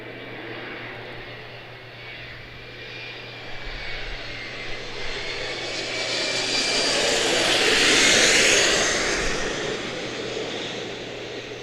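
American Airlines flight 3199, a jet airliner at Charlotte-Douglas International Airport, roars past with a broad engine rumble that swells to a loud peak around the middle and then fades as it moves away, under gusty wind.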